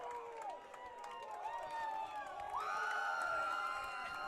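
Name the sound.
soccer crowd cheering at playoff game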